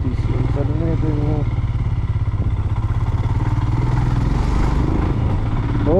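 A motorcycle labors up a steep mountain road in first gear on the dangerous route to Om Parvat and Adi Kailash in Uttarakhand, its engine droning steadily and loudly throughout, with voices talking over it.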